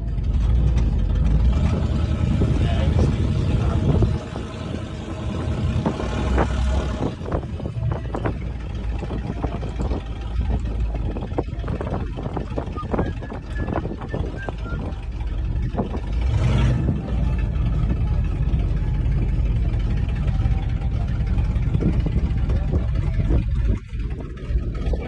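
A vintage Ford truck carries passengers across Sleap Airfield, its engine rumbling and rattling steadily throughout the ride with wind noise buffeting the microphone.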